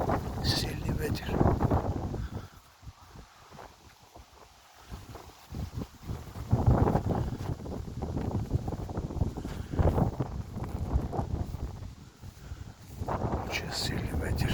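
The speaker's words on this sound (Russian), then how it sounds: "Очень сильный ветер." Very strong wind batters the microphone outdoors in loud, uneven gusts that rise and fall, with a calmer lull partway through.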